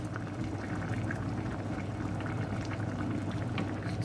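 Sausage and bean casserole simmering in a pan, a steady close bubbling and gentle hiss that runs without a break.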